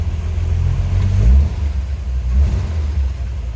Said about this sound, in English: That dual exhaust, that inline 6 coming out of it.